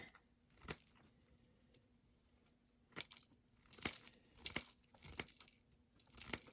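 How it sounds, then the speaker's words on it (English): Paper or a thin craft piece for a snowglobe being cut up, giving several crisp snips and crinkling cuts at irregular intervals, fairly close and quiet, with no talking. "I'll just take this piece and cut it all up again"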